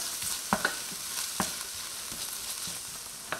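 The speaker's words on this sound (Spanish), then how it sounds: "agregamos 2 dientecitos de ajo y el jamón cocido, cortado también en trocitos pequeños. Lo doramos por unos minutos" Chopped garlic and small pieces of cooked ham brown in a pan with a soft, steady sizzle, broken by a few sharp clicks and scrapes of stirring.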